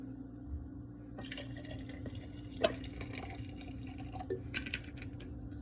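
Cranberry peach kombucha is poured from a bottle into a glass for a blueberry mocktail, a quiet steady trickle of liquid with a few faint clinks, heard alone with no talking.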